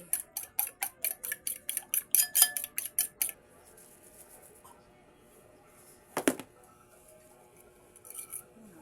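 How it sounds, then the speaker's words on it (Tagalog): Eggs beaten with a utensil in a bowl before malunggay leaves go in, giving a quick run of even, light clinks that stops, then a quiet pause, a single sharper knock and a few faint taps. "Batikin muna natin siya bago natin ilagay yung ating malunggay."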